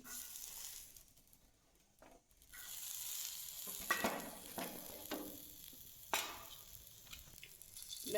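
Garlic frying in a little oil in a pan to a light pink, a quiet crackling sizzle punctuated by a few sharp stirring scrapes and clinks, close-up with no talking.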